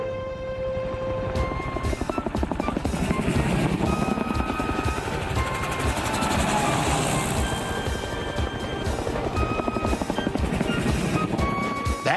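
Helicopters flying in, a rapid thudding rotor beat running throughout at a steady, moderately loud level, with a faint watery hiss underneath.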